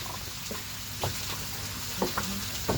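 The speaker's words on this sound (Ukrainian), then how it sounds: "Сковорідочка шкварчить." Pork fat and fresh pork sizzling in a well-greased frying pan with a steady close hiss, broken now and then by a few light clicks and scrapes.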